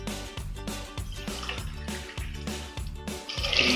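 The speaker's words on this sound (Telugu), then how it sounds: "సో 4 గ్లాస్ వాటర్ యాడ్ చేస్తున్నాము ఈ వెజిటేబుల్స్లో." Water poured glass by glass into a pressure cooker holding carrots, beans and other vegetables, a close, splashing, gurgling pour in several short bursts.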